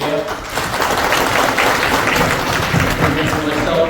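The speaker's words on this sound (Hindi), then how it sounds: "तालियों से अप्रिशिएट किया।" An audience at an anti-corruption committee awards ceremony claps in a dense, loud, sustained burst, with a faint voice mixed into the crowd noise.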